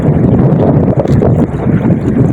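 Strong wind roars steadily across a longline fishing boat at sea, a loud continuous buffeting rush with low rumble and microphone gusts, no voices.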